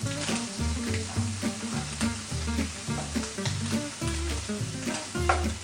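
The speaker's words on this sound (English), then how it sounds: "So we're just going to cook all this over medium to high heat for about 2 to 3 minutes, just until the bacon is nice and crispy" Diced bacon and garlic fry over medium-high heat in a pan, producing a loud, steady crackling sizzle with rhythmic stirring strokes running through it, close up and without talk.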